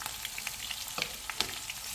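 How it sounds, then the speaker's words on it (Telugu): Green chillies and curry leaves fry in hot oil for a lemon rice tempering, a constant close sizzle with sharp pops and crackles scattered throughout. "ఒక 5 గ్రీన్ చిల్లీస్ అండ్ కరివేపాకు దీంట్లోనే వేసేసి ఫ్రై చేస్తాం"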